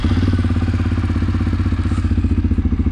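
A CFMoto CForce 500s ATV engine idles close by just after starting, with an even, rapid low putter and a faint mechanical clatter on top.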